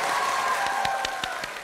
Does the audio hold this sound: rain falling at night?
no